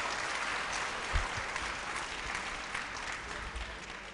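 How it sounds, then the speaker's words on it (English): Audience at a literary festival session applauding two non-fiction writers, a steady, dense wash of clapping that holds at an even level throughout, with no voices over it. "I think both of them need a big round of applause straight away"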